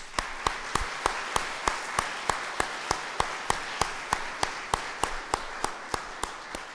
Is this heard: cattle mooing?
no